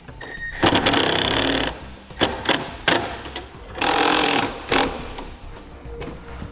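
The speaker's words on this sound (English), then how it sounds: "Now use a self-tapping screw to mount your bracket." A power drill drives a self-tapping screw to mount a wiring bracket on a 2017 Ford F-150, with several loud whirring bursts of varying length separated by short pauses.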